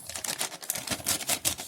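Fabric storage pouch of a Braun MGK7220 trimmer rustles and crinkles up close, a dense run of quick crackling scrapes with no speech.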